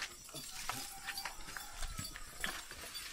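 A horse carrying a stacked load clip-clops along a muddy road, its hooves giving irregular, soft knocks amid outdoor background noise.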